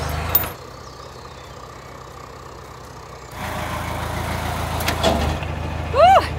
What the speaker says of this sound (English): Start the engine, make sure it's not leaking.